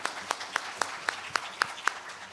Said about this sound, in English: One final round of applause for Mr. Reed and all of our talented musicians.